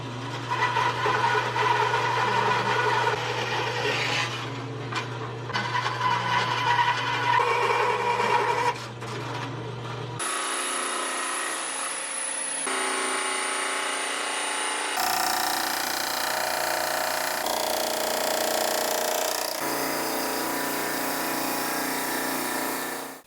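A power tool lops both ends off a wooden guitar neck board for a rosewood Telecaster build, running in several loud, steady stretches with abrupt changes in pitch and tone between cuts, no voices.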